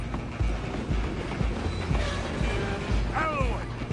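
A train rolls by in the Red Dead Redemption 2 game with a steady rumbling clatter of wheels on rails and a brief squealing whine near the end, heard under game noise and voices.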